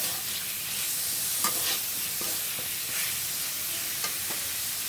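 Fried fish and potatoes sautéing together in a pan make a steady sizzle with the rhythmic scrape and knock of a spatula stirring them, heard close and without talk.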